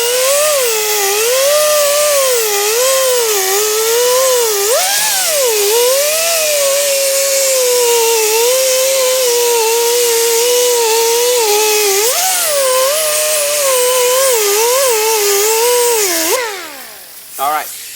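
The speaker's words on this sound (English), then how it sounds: "using pneumatic equipment, we can use the bristle discs. Here's my air hose." A pneumatic tool spins a bristle disc against rusty metal, reaching into a tight area, giving a loud, steady high-pitched whine with slight pitch wobbles that runs continuously before cutting off near the end.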